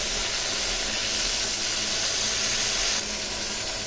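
Stuffed brinjal fries in a little oil in a covered pan, giving a steady, close, bright hiss and sizzle that runs unbroken and dips slightly in level near the end.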